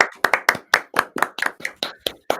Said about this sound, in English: I don't know what we're clapping